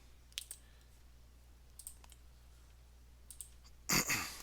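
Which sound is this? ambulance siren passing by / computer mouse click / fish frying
computer mouse click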